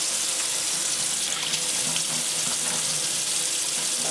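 A kitchen tap runs steadily into a sink while a whole chicken is rinsed, a continuous close hiss of splashing water with no talking.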